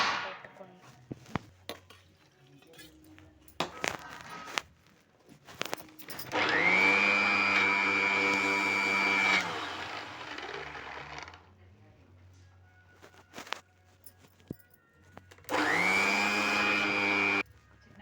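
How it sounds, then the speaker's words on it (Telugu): Mixer grinder whirring loudly as it grinds henna leaves, two bursts of several seconds each with a rising motor whine, separated by quieter handling clatter and knocks. "ఇది ఇప్పుడు మిక్సీలో వేసి చేస్తున్నాం"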